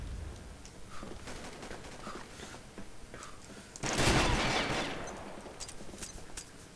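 Gunfire in the online shooter Combat Arms, with scattered shots through the first seconds and a louder, denser burst of fire near the middle before settling back to sporadic shots.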